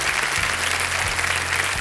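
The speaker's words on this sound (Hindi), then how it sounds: "इनका स्वागत किया जाए तालियों के साथ" A studio audience on the Kaun Banega Crorepati game show set claps steadily and loudly, dense applause filling the whole stretch without voices.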